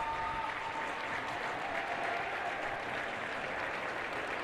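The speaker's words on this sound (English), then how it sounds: "Now the Prep crowd gets loud." Crowd at a high school ice hockey playoff final cheering and applauding, a sustained roar of clapping and voices from the stands, steady and fairly distant throughout.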